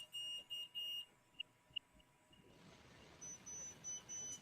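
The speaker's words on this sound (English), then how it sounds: "I'm beeping here. Let me stop beeping." Repeated electronic beeping, short steady tones in quick bursts with a couple of single blips, then a fainter run of beeps over background noise.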